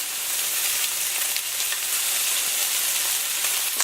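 Tomatoes sizzle in a hot pan while a wooden spoon stirs and mashes them, a steady, close crackling fry with soft scraping and no talking.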